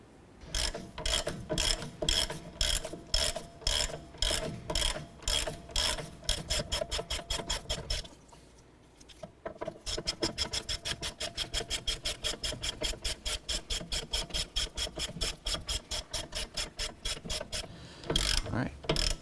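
A ratchet snugs a rear strut bolt on a 2008-2012 Honda Accord, clicking in rapid, even strokes up close, pausing briefly partway, then resuming a faster steady clicking run to the end.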